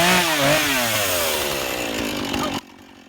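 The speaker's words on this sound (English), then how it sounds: "Smoothing out the top of the logs there with the chainsaw" Chainsaw cutting along the top of logs to level them for a greenhouse base, a loud continuous buzzing drone with shifting pitch that cuts off abruptly near the end.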